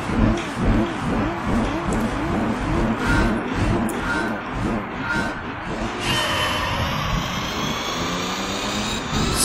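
A race car's engine in Gran Turismo 3 revs hard on the Rome circuit in reverse, climbing in pitch, dropping at each gearshift, then climbing again, loud and close with no voices.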